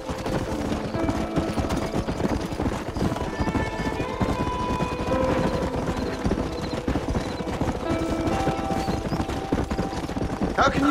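Rapid clip-clop of a horse galloping in the video game Red Dead Redemption, steady and close throughout, mixed with bursts of gunfire and a whinny, with a voice talking over it.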